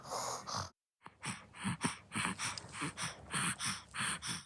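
A man imitates a baby's labored, wet night-time breathing, a steady run of rasping, gasping breaths repeated about a dozen times, close and fairly loud after a brief pause.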